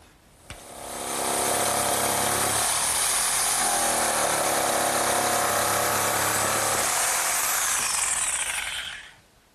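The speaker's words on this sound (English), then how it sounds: "And now I'll just cut both boards at once." A power saw cuts through two stacked wooden boards at once for a hearth-side settle, a loud steady whine running for about seven seconds after a brief click, its pitch dropping midway as the blade bites deeper, then spinning down.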